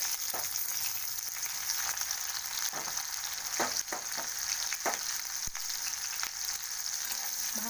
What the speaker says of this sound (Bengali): ভালো করে পেঁয়াজগুলো ভেজে নেবো